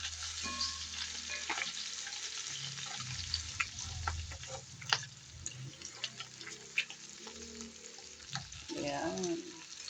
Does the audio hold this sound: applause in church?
no